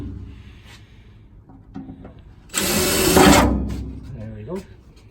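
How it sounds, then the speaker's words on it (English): A power drill bores a hole into a wood stove's forced-air filter housing, a loud whirring burst of about a second and a half that stands out from quieter handling noises and faint talk around it. "I drilled my 2 first holes"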